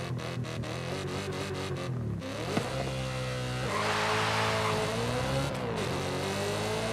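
In Forza Horizon 5 a tuned car held at 8,000 RPM launches, the engine droning loud and steady before the revs dip, catch and climb again through gear shifts, with faint tire noise and no talking.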